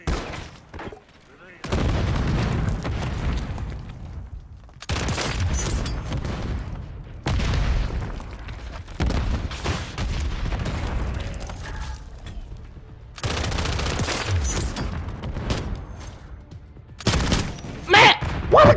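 Gunfire in Modern Warfare multiplayer, bursts of rapid shots in long stretches broken by short quiet gaps, loud and close, with a voice talking at times.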